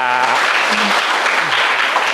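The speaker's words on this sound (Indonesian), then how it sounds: "Tepuk tangan dulu untuk Tuhan ya." A church congregation applauds during a Mass, a dense, steady burst of clapping with a few voices underneath.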